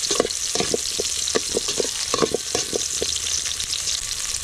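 Garlic and onion sauté in hot oil in a pan with a constant crackling sizzle. A utensil stirs them in a quick rhythm, about a dozen close scraping strokes in a few seconds, with no voices.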